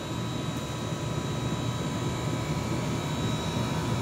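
An air conditioner compressor running steadily, a continuous low hum and hiss with a faint constant whine, even and unbroken throughout.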